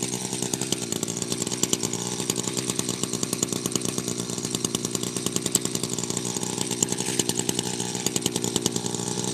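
A chainsaw runs steadily at high revs, loud and close, with a dense buzzing drone and fine rapid pulsing throughout and no talk over it.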